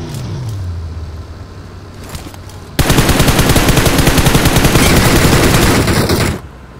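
PUBG Mobile gunfire: after a quieter stretch with faint vehicle and ambient noise, a loud burst of rapid automatic fire starts abruptly and hammers on steadily for several seconds before cutting off.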